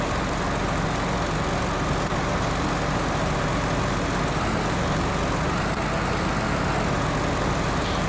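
A truck engine drones steadily and loudly in the off-road driving game SnowRunner, a dense continuous roar with no clear breaks and no speech.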